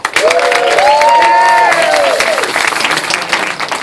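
An audience at a Purim stand-up comedy show breaks into loud applause with cheering and a few whistles, swelling quickly and then tapering off over a few seconds.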